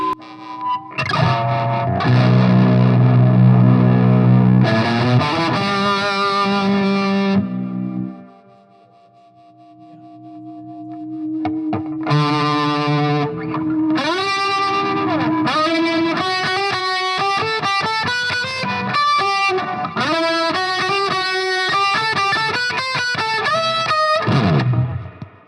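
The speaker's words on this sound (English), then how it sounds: "Brown face tremolo, which is like almost a proto phaser." An electric guitar played through a brownface-style tremolo pedal, chords and melodic lines pulsing with a phaser-like wobble, loud and close with a brief quiet gap in the middle.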